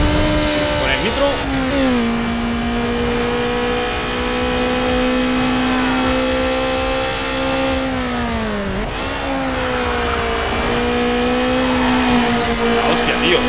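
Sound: car approaching fast from behind, Need for Speed Underground 2 video game

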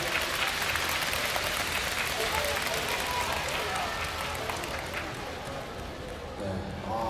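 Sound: crowd applause for injured basketball player

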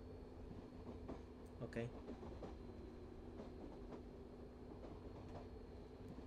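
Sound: Spanish high-speed train running in Euro Train Simulator video game

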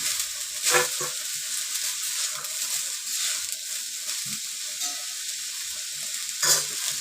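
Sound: coriander and curry leaves dry-roasting in a pan

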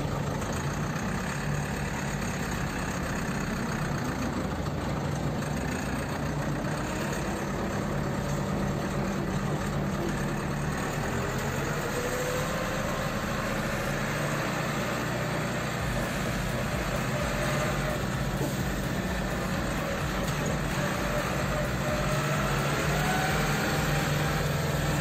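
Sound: YuMZ-6 tractor with MAN engine running and driving

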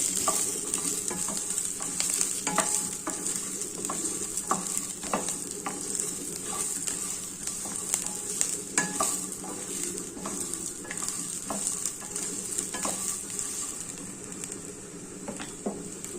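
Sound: ivy gourd curry frying and being stirred in pan

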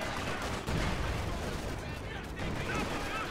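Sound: gunfire in the video game Company of Heroes 2

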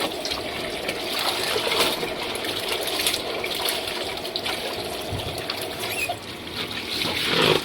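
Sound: laundry being spun in a washing machine dryer

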